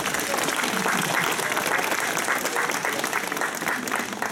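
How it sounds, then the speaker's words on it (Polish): A concert audience applauds an orchestra's performance of film music, a dense and steady wash of clapping from many hands that holds at full strength throughout. "To jeszcze raz brawa!"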